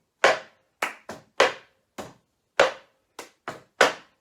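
Ten sharp, separate hand claps in an uneven rhythmic pattern as part of a clapping exercise, close and crisp with silence between each clap and no talking.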